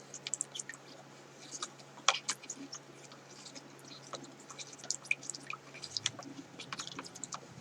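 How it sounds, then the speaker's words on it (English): Homemade gesso made with plaster of paris is stirred by hand, giving faint wet squishes and soft irregular clicks of the stirrer against the container, quiet and close. "I'm going to take my stirrer and I'm going to stir that up"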